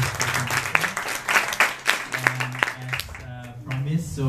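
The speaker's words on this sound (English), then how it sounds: "Okay, please give applause to Mr. Shefi Hadian for his" An audience at an academic presentation session claps in scattered, uneven applause while a voice talks over it, with the clapping fading before a brief pause.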